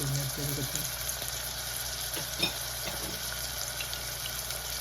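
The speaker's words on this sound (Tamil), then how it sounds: "கடுகு போட போகிறேன்." Mustard seeds sputtering in hot oil for a tempering, with cumin, fennel and fenugreek to follow. A low, steady sizzle with faint pops sits under a constant background hum, and there is no talking.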